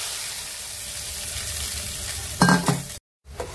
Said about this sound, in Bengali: মশলাটা কষা কষা হয়ে গেছে